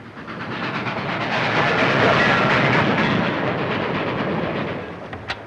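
A moving train rolling on rails with a steady, loud clickety-clack that swells and holds for several seconds, close and continuous with no talking.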